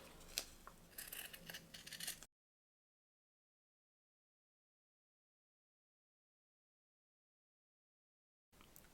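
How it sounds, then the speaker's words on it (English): Close, crisp snipping and crunching of scissors cutting jersey fabric for about two seconds, then silence, with a short burst of cutting again at the end. "I'm just going to go around it with scissors."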